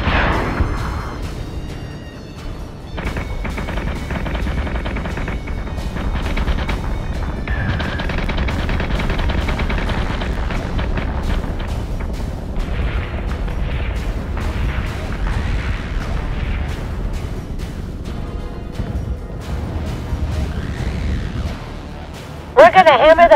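Warship cannons from the space combat game Battlestar Galactica Deadlock fire in a dense, continuous barrage of booming shots and rattling bursts, loud and sustained, with voice commands heard over the gunfire.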